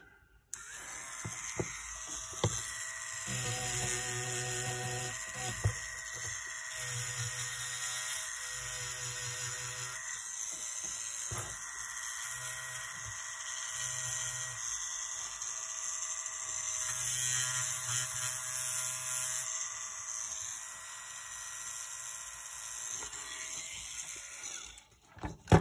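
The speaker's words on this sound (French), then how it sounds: "J'ai roulé un bout de papier de verre" Rolled sandpaper on a power tool during restoration of a Ferrari 410 S, a thin whining grind running for most of the time with changing pressure, cutting out at the very end.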